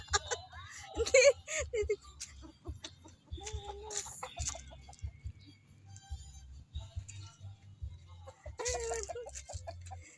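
Several chickens cluck intermittently on a farm in Pangasinan, Philippines, short scattered calls near and far, with some quiet talking and a low hum underneath.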